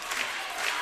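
Basketball fans at a FIBA 3x3 Europe Cup game clap together, a brief burst of crowd applause in an arena, moderately loud and evenly spread.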